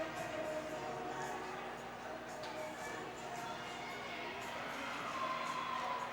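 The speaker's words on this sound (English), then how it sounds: "Good live crowd here tonight" Crowd noise at a sold-out boys high school ice hockey game in an indoor rink, a steady murmur and cheering of the stands under continuous play-by-play commentary, with faint scattered shouts.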